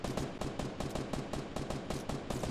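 Rapid bursts of automatic gunfire from a Fortnite duo match, sharp repeated shots in a steady rattling rhythm, loud and close throughout with no talking.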